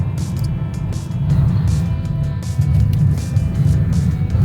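A car driving through a village, a steady low engine rumble and road noise heard from inside the vehicle, continuous and fairly loud with no talk.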